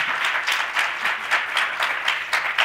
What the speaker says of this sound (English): Can I please ask you to give my panelists a massive round of applause?